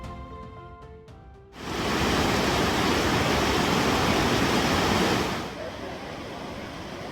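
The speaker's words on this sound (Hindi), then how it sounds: "शुरू होती है आज की सबसे बड़ी परीक्षा, ग्लेशियर से निकलने वाली बर्फीली जलधाराएं।" Icy glacial meltwater streams in the Himalayas rush in a loud, steady broadband roar that swells in abruptly after a few soft tones, holds for several seconds, then eases off slightly.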